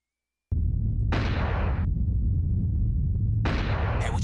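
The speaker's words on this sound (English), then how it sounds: "I don't know what that little explosion is." A small explosion goes off in the video game Bad Day L.A., heard as two loud bursts of noise over a steady rumbling game background, with no talking.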